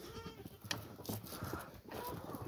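Faint, high bleats from young goats being treated against ticks come through a noisy background, with scattered rustling and handling sounds nearby.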